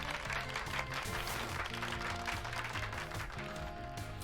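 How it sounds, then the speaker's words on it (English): Crowd applause in the Pokémon Violet video game, cheering Pikachu with a dense, continuous clatter of clapping over a low game music bed, steady and moderately loud for a few seconds. "Give Pikachu a round of applause, everyone."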